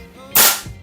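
A single sharp crack from an FX Wildcat Compact .22 caliber air rifle, loud and close, with a quick bright burst that fades into a short echo and a faint thump shortly after.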